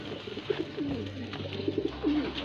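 A pigeon coos in repeated soft, throaty phrases, close by, with a low steady hum underneath and no voices.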